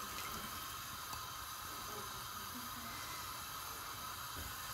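Soaked barley simmering in water in a pan on a stove over medium heat, giving a steady low hiss and soft bubbling throughout, close and even, with no talk.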